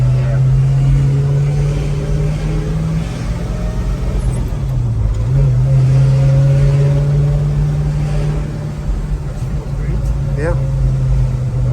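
A restored 1964 Chevrolet Chevelle Malibu SS with a 4-speed manual being driven, its engine a loud steady drone heard from inside that dips briefly as it shifts, with occasional talk over it.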